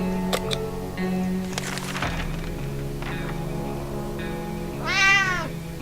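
A cat meowing in the video game 60 Seconds, a single clear rising-falling meow near the end after scattered thumps and clatter, fairly close and alone without talk.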